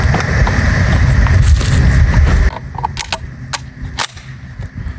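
A Remington 1100 or 11-87 shotgun fired outdoors, a loud close blast followed by a rolling echo, then a sharper crack and some clattering as the sound fades.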